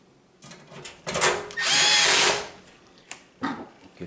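Power drill driving screws into the vent cover of a Bosch stove, several short bursts of whirring with one longer sustained run in the middle, close and fairly loud.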